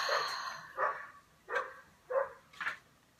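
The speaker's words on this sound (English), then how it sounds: "Now my dogs are outside barking." Several dogs bark four or five times in spaced bursts outdoors, slightly distant, with a quiet background between barks and no talking.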